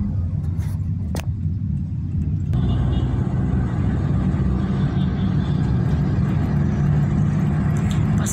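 Inside a moving vehicle on a road in Bangladesh, a loud, steady low rumble of engine and road noise fills the cabin throughout. A couple of faint clicks come early, and the broadband hiss rises after a few seconds.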